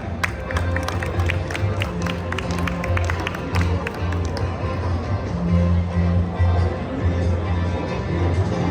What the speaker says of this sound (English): Now let's give a round of applause for Muneeb.